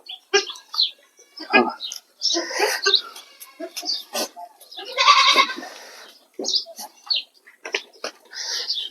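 Goats and young kids bleating on a goat farm, several short overlapping calls coming in bursts, mixed with a person talking.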